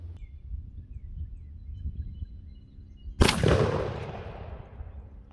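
A single loud blast from a Mossberg 835 Ulti-Mag 12 gauge shotgun firing a Salt Creek 3.5-inch TSS #9 load through a full choke, followed by a long decaying roar outdoors after a quiet lead-in.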